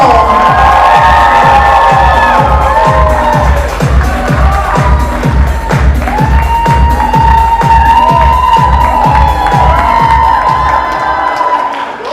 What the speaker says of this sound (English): A nice round of applause. Make some noise out there.